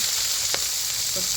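Close, loud sizzling of onion frying in hot oil with mustard seeds, a continuous crackling hiss with one brief clink.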